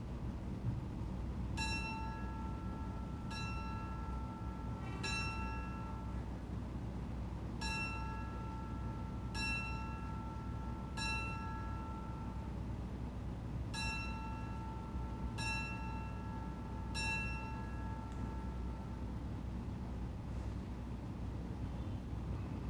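Memorial bells ring in slow, spaced strikes at a September 11 remembrance ceremony, each clear tone lingering and fading over a low, constant background rumble, with no talking.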